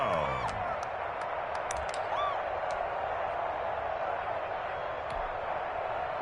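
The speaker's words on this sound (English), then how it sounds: "the crowd getting into it as we come up on a big 3rd down" A stadium crowd in an American football video game on PS4, a dense roaring murmur of cheering held at a steady level throughout, with a few sharp whistles and clicks above it.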